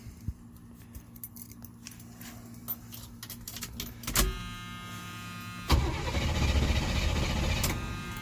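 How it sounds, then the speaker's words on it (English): A 1980 Chevy K10 engine is cranked in attempts to start, with a few clicks and a rising whirring starter drone that swells near the end, close by and without speech. "we're gonna see if she'll crank up on her own"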